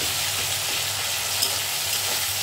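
Ginger paste sizzles and fries in a pan while being stirred for palak paneer, a steady dense hiss throughout with faint scraping, close and even, no talk.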